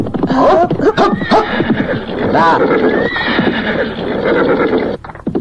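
Horses neigh and whinny loudly while being reined to a halt, with hooves clip-clopping and people talking throughout.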